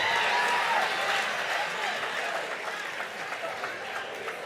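Audience applause at a National Action Network convention, a dense wash of clapping that is loudest at the start and gradually thins and softens over a few seconds, with crowd murmur underneath.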